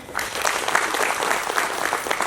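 An audience claps together in sustained applause, a dense, even patter of many hands heard close for a couple of seconds.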